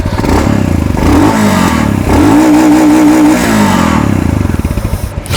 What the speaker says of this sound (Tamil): ஸோ இதோட எக்ஸாஸ்ட் நோட் எப்படி இருக்குன்னு இப்போ கேளுங்க.